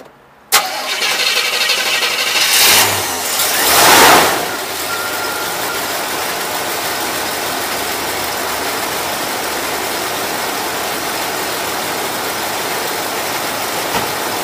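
A Volvo C30 cranks and fires up after a click, with a brief starter whir and engine flare, then settles into a steady, even idle with a faint whine, heard close and alone.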